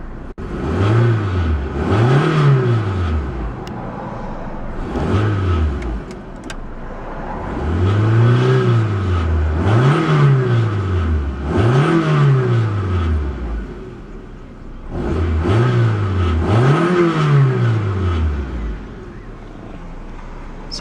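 A car engine idles and is revved repeatedly, loud close bursts of rising and falling engine pitch in a steady series of about eight revs separated by idle.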